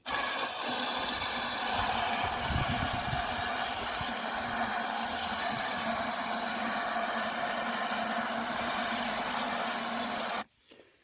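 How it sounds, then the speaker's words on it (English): Brake parts cleaner sprays from an aerosol can into a Sprinter van's diesel filter housing. The hiss is loud and unbroken for about ten seconds and stops abruptly. "So that's it blasted out, and now just normal brake parts cleaner."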